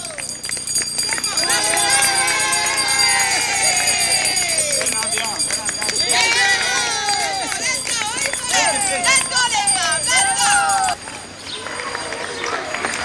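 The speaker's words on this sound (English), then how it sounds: "the crowd was cheering them on in French" A crowd in Quebec cheering marathon runners in French, a loud, continuous roar of many voices with shouts and calls and the patter of passing feet, dropping slightly near the end.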